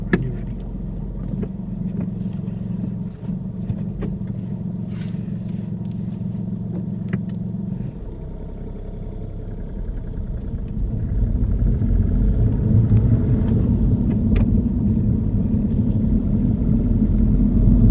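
A car driving during a driving test, heard from inside as a continuous low engine and road rumble that deepens and grows louder partway through, with faint small clicks and no talk.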